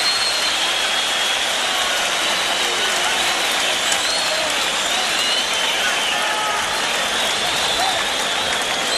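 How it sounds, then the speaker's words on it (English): A boxing arena crowd cheers and applauds loudly and continuously after a fight, a dense wash of clapping and roaring voices with no break. "Let's listen to that crowd,"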